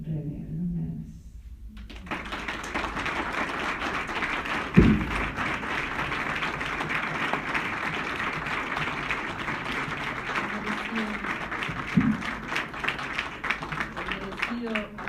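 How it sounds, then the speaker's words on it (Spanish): Sustained audience applause after a lecture on reading Borges, a steady wash of clapping from a seated crowd that continues for over twelve seconds, with a couple of louder knocks or bumps standing out. "Merecido aplauso"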